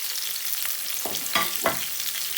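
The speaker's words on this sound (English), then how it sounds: "I have about 2 tablespoons of oil, and then in goes the onion, the white part of the spring onion, and garlic." Onion, the white part of spring onion and garlic stir-frying in about two tablespoons of oil, a soft steady sizzle broken by three quick scraping stirs near the end.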